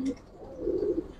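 Giribaz pigeons at a loft, a group of three young birds, two hens and a cock, give soft low cooing close by. The coos run in a steady murmur for just over a second with no talk.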